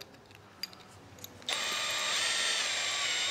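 After a couple of small clicks, an electric drill with a 5mm bit starts up, boring into a metal part of an Audi/VW high pressure fuel pump, running in a steady high whine, close and fairly loud.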